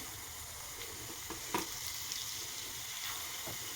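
Beetroot and carrot sizzle in hot coconut oil, a steady close frying hiss with a few brief crackles and a stir or spoon tap midway.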